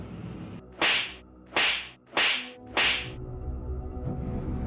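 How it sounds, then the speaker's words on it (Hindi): Four loud cartoon slaps land on a face at a steady rhythm, each a sharp whip-like crack with a brief swish, and no one speaks between them. "फिर बुल्ली सौंदा पोटी बॉय पे थप्पड़ों की बारिश कर देता है।"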